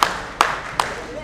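Three sharp, loud claps ring out at even intervals on the stage of a Punjabi stage drama, close and separate, with no sustained crowd applause.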